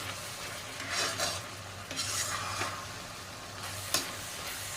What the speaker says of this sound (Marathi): आपल्याला गाजरचा हलवा हलवत राहायचा आहे